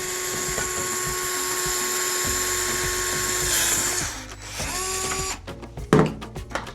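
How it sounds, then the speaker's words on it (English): A power drill bores a hole through a plastic Mickey's Toontown bubble blower toy, a steady high whine running for several seconds, then slowing and stopping with a few short bursts and clicks near the end. "So I'm just gonna kind of drill from this side, pick a spot and drill through."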